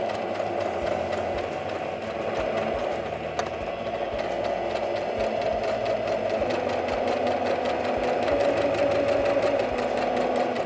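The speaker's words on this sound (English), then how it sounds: "And then you'd take it over to your sewing machine." A sewing machine stitches a seam continuously with a rapid, even mechanical rattle, steady and fairly close, with no voices.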